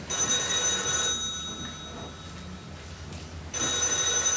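Telephone bell ringing in a Dutch radio play: a loud ring at the start, a quieter gap in the middle, then the ring returns loudly near the end, with no voices.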